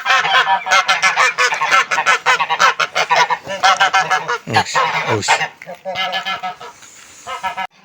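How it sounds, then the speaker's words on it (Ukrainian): Geese honk repeatedly in a loud, dense chorus of harsh calls, close by and continuous throughout, with a voice briefly speaking among them. "Отож гуска пуху нариває."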